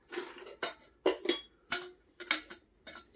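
Camping cookware, a decent-size pan with a lid, being handled: a run of sharp metallic clinks and taps at an irregular rhythm, close and fairly quiet, with no talking.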